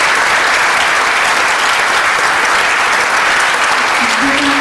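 Audience applause for the evening's speakers at a climate action event on San Juan Island, a steady dense wash of clapping running throughout at high level, with a faint low tone entering near the end.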